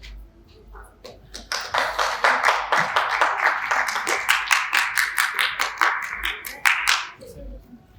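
Audience at a book presentation in Juliaca breaks into clapping, starting sparse and building into steady, fairly loud applause of many hands that holds for several seconds before tapering off.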